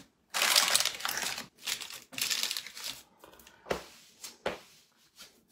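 A slab of homemade rocky road is cut into pieces, giving several crunchy, crumbly bursts as the knife presses through the set chocolate and biscuit, separated by short pauses.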